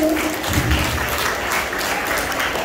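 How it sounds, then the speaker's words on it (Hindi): Clapping from a school audience greets children at a Teacher's Day event, a dense, steady round of applause lasting the whole stretch with no break. "तालियां बजा दीजिए बच्चों के लिए"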